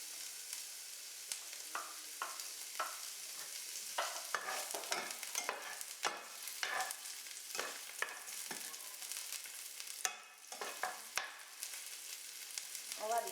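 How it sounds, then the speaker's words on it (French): Onions frying in oil in a cooking pot, a steady close sizzle with scattered stirring scrapes and crackles running throughout, no voices. "On va laisser nos oignons dorer un tout petit peu."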